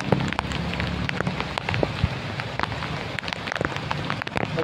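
Heavy rain pounding a second-floor rooftop where pechay is planted during a storm, a dense steady patter with sharp individual drops close by, no speech.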